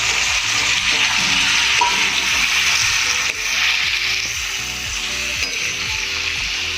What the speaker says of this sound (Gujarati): પરવરને પણ આપણે આમાં થોડા ફ્રાય કરી દઈશું.